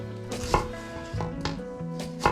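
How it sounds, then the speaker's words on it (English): Shallots chopped roughly into chunks with a knife on a board, a few crisp thuds spaced about a second apart, close, over soft background music, no speech. "So shallots first, we're gonna chop."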